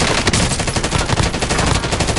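A submachine gun fires in a video game as one loud, continuous rapid burst with no pause.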